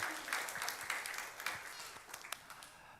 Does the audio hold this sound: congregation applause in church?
yes